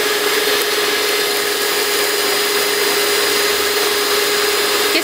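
An electric mixer beats gingerbread cookie dough in a home kitchen, a loud, unbroken motor whir with a steady hum and no pauses or talking.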